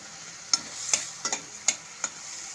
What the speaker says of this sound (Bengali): আমি পেঁয়াজ, রসুন, আদা, কাঁচা লঙ্কাটা ভালো মতো করে তেলের মধ্যে কষিয়ে নেব।